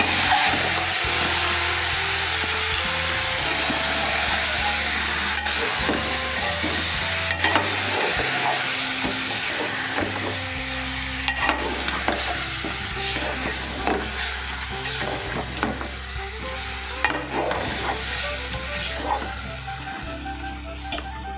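A mango raita mixture is stirred in a pan over the heat, with repeated scraping and clinking of the spoon over a steady background hiss.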